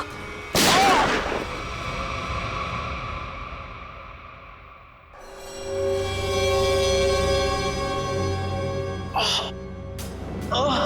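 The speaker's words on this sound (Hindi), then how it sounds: "शूट करो ना, गोली चलाओ ना" A sharp loud bang, then a sustained ringing tone swelling partway through, followed by two more quick sharp blasts near the end.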